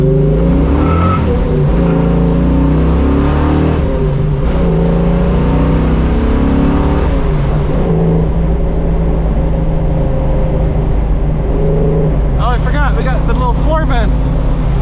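A 1970 Ford Mustang Fastback restomod accelerates hard from inside the car, its loud engine climbing through rising revs and a gear change before easing off, with brief speech near the end.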